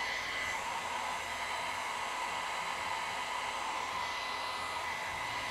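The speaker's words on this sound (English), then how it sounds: "We're using heat on this blow dryer to kind of show you if heat does make a difference in the staining" Blow dryer blasting hot air onto alcohol ink on paper, a steady, even whoosh held close and loud for the whole stretch with no pauses.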